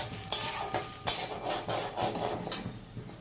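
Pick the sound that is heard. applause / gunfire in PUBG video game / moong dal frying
moong dal frying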